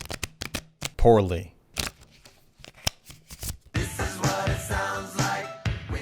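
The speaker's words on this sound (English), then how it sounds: "I shuffle a deck of cards." A deck of playing cards being shuffled at home, a quick riffle burst followed by a longer, dense ruffling clatter of cards, close and fairly loud, with a brief spoken word in between.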